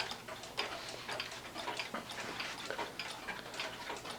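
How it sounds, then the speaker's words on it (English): A one-day Hunter cuckoo clock ticks steadily and quietly in an even rhythm, heard alone against a faint room hiss. "It's a 1 day clock."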